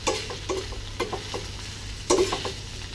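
Spinach stirred in a hot frying pan with a pinch of salt, scraping sweeps and soft sizzling close by, with a few sharper utensil scrapes, no talking.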